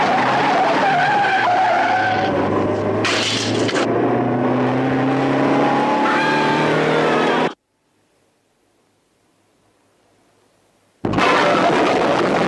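A Jaguar Mark II in a car chase skids with loud, sustained tyre squeal and engine roar for several seconds, then the sound cuts to near silence before the skidding bursts back in.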